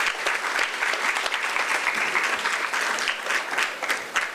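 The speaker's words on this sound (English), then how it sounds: "let's give her another hand of applause" A live audience at a women's health event applauds loudly and steadily for a presenter, dense sustained clapping filling the room throughout with no talk over it.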